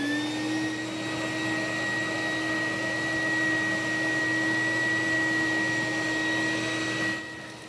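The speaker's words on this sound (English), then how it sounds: "when you're ready to turn the blower on" An attic insulation blower for loose cellulose runs steadily with a loud, continuous motor roar and a high whine, then cuts out at the very end.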